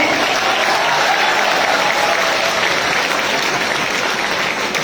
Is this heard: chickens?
no